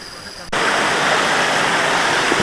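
River water rushing steadily beside the East Fork Trail on the way to the Bridge to Nowhere, a loud, continuous broadband roar of flowing water that starts abruptly after a quieter half-second and holds alone.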